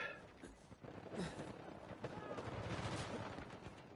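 Gunfire in the Uncharted 4 video game during co-op play, a rapid faint crackle of shots over continuous game noise, with a voice talking over it.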